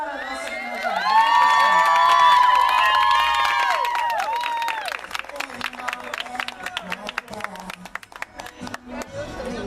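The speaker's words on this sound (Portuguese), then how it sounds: "E aplausos para a nossa homenageada." Applause and cheering for an honoree at a live event in Ponte Rasa, East Zone, with loud whoops and shouts of children and adults at first, then sustained clapping that continues under a crowd.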